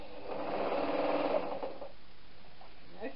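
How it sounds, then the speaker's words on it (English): A sewing machine stitches the sides of a fabric knitting needle case in a fast, close, steady whirring run of about a second and a half, then stops, leaving quiet room noise. "I need to sew the sides together."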